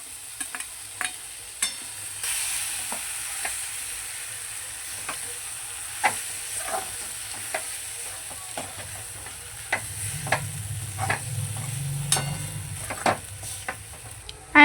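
Soaked, drained sabudana stirred in a hot pan with sugar and lemon juice, a low sizzle running under repeated sharp spoon scrapes and taps against the pan, close and without talk.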